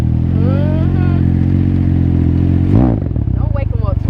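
A 2021 Can-Am Ryker Rally fitted with a Treal Performance exhaust runs with a steady, loud, deep engine drone under close talking, then its note shifts sharply near the end as the throttle changes.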